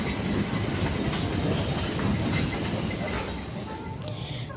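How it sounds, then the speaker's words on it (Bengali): A Glen Waverley line train at Central metro station, Melbourne, rumbles loudly with rhythmic clattering and hissing, close by and steady throughout, with a brief high squeal near the end. "আমরা এখন দাঁড়িয়ে আছি সেন্ট্রাল মেট্রো স্টেশনে তো গ্লেন ওয়েভারলি লাইনে ট্রেনটাই চাপবো"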